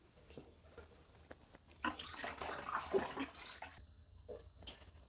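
Water pours into a fermentation bottle of hard pink lemonade in a home kitchen, a soft close splashing and gurgling that builds in the middle and then trickles off.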